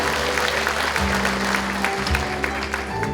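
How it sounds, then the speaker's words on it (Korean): Applause rises from an audience at a Uljin county hope talk concert as a cluster-company guest is introduced, dense clapping mixed with steady music tones underneath that shift pitch every second or so. "큰 박수 부탁드리겠습니다"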